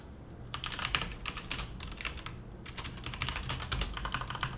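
Typing on a computer keyboard: quick irregular bursts of clicking key presses, close and clear, with short pauses between runs and no speech over it.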